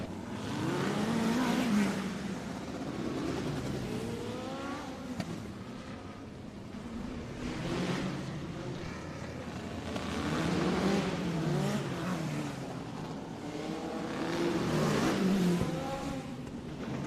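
Midget race cars roar around the track in an eight-lap heat at the Rumble in Fort Wayne, engines rising and falling in repeated sweeps as the pack passes, loud and continuous with no talk.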